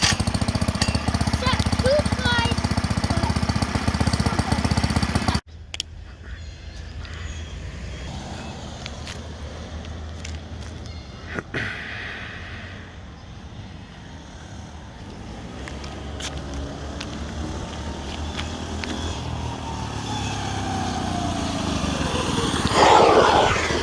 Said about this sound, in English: this is the initial start with the Coleman cc100x. Let's get it started.